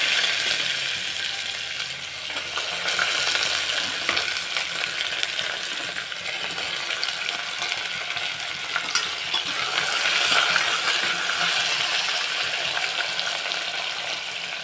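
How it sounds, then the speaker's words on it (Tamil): Chopped onions fry in a pan for a biriyani made with baby jackfruit, giving a loud, continuous sizzle with swelling hiss and occasional stirring scrapes, close up with no voices. "கட் பண்ணி வச்ச வெங்காயத்தை போட்டுடலாம்"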